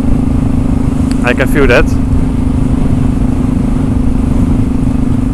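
A Yamaha motorcycle on wet-weather tires rolls along with a steady, loud engine drone and wind rush, and a rider briefly speaks over it.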